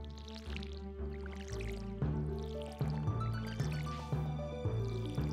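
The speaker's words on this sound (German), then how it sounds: "Dann hier noch gießen." Crops are watered in the farming game Stardew Valley, with a soft liquid pouring and dripping effect laid over steady game music, no voices.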